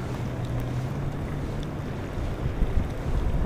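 Steady wind buffets the microphone with a low rumbling roar while muskie fishing, broadband and constant, with faint water sounds beneath and no speech.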